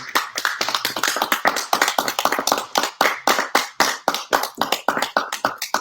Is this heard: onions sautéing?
no